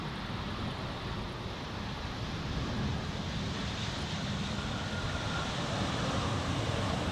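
An Air France airliner on a crosswind approach to Schiphol's Polderbaan runway gives a steady, moderately distant engine roar with broadband rushing noise, holding even throughout with no talk.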